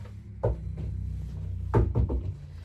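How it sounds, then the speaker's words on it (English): Knocking on a door in a care facility, several sharp raps heard up close in two short groups, with quiet room noise between them. "Okay, so we're always going to knock."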